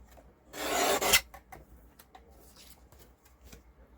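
A paper trimmer blade slides across cardstock for an autumn greeting card in one short, close rasping swipe, followed by faint paper handling and light taps.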